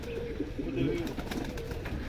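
Pigeons kept by a Punjabi pigeon fancier coo steadily and close by in low, throaty rolls, with a faint murmur of background noise and no clear speech.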